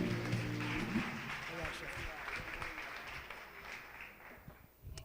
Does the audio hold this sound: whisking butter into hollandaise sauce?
no